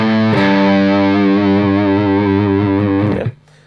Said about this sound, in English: So that last arpeggio sounds like this.